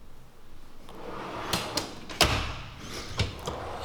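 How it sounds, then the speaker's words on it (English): Moduline garage tool cabinet drawers slide shut with solid clicks, several sharp knocks spread over a few seconds, one noticeably louder, heard close up with no talking. "the Moduline drawers are, you know, they're very smooth, have a very solid click as they close"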